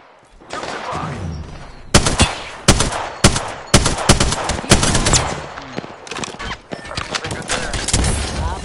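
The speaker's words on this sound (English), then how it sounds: "Shots fired. And they're hitting me." Gunfire in the video game Destiny 2, loud bursts of rapid automatic shots and sharp single cracks repeating through a firefight, with a dense crackle of fire running beneath.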